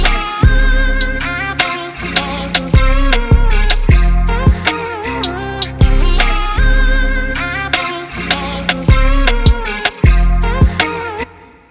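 A loud, punchy music mix running through a T-Rex soft clipper and a Waves L2 Multi-Maximizer, with hard, regular drum hits and sustained bass and synth layers pumping steadily throughout.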